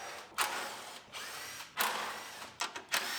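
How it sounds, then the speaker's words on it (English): Power tool bolting the radiator support on a Ford Focus during a rebuild: several short whirring bursts, close and loud, with brief pauses between them and quick stuttering pulses near the end. "Now we're going to bolt the radiator support."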